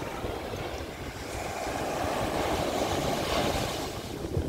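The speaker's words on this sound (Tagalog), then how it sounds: "lakas ng alon guys" Strong ocean waves breaking on a beach in Bicol, a steady roaring wash of surf with wind buffeting the microphone, loud and continuous without any talking.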